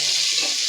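Sliced onions and green chillies frying for quail biryani, giving off a steady hissing sizzle close by for a brief moment, with no talk.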